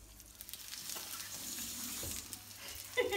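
Food fries quietly in a pan for a sauerkraut dish, a soft steady sizzle at low level with a faint clink near the end.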